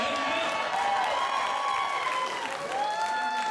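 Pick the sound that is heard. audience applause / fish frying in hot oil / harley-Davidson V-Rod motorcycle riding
audience applause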